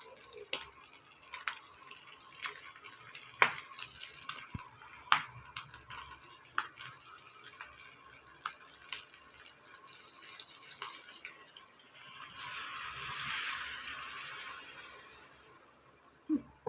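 Water is poured into a simmering chicken bones curry, a soft rushing swell near the end after a stretch of scattered clinks and quiet stirring in the pot.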